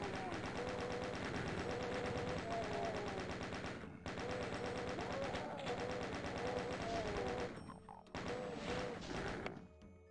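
A chaingunner enemy in Doom II fires rapid rattling bursts against busy game music and sound effects, the repeated shots broken by brief gaps as the fight continues.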